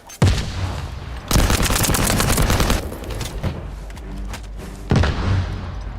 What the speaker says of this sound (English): He's still shooting people.